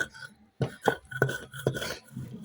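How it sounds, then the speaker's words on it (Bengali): Dried fish (shutki) is worked into a mash for a Bengali shutki bhorta, with a handful of uneven, close thumps and knocks in quick succession and short pauses between them. "এখন আমি খুব ভালোভাবে শুটকিটি বাটা লইয়াম।"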